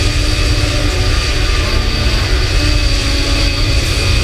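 Airliner taxiing in Microsoft Flight Simulator: a loud, steady jet engine drone with strong low rumble and a constant whine, unbroken and close throughout.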